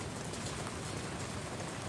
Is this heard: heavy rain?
yes